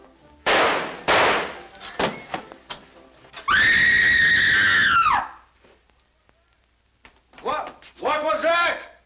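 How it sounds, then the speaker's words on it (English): A woman's loud, sustained scream in a dramatic old film scene, rising sharply after bursts of agitated dialogue and lasting over a second before dying away, followed by further shouted speech. "Who screamed?"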